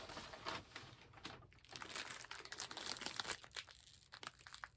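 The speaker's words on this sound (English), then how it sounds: "Jamie, let me put the crinkly bag down." A crinkly plastic shopping bag is handled and set down, giving quiet, close rustling and crackling bursts that come in irregular clusters, with no speech over them.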